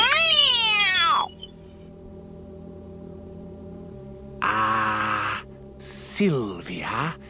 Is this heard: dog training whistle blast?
no